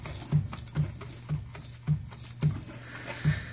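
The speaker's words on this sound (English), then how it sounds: "That noise is coming from within the transmission" Inside a car transmission with play in a bearing, a low repetitive knocking thump recurs about every half second over a faint rushing background, heard up close.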